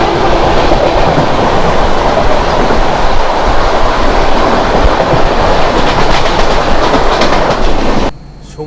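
Inside the Howrah–Guwahati Saraighat Express at speed, a loud continuous rumble carries rhythmic wheel clatter on Indian rails and then drops off sharply near the end. No one speaks.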